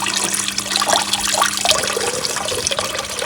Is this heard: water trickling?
yes